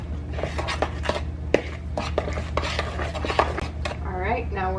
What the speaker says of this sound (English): go ahead and mix that egg in